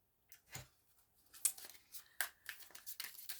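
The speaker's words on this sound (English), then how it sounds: "I love the way these cards shuffle." Tarot cards shuffled by hand in a quiet room, giving a series of soft papery riffles and brisk flicks that come in uneven bursts, close and fairly faint, with no talk.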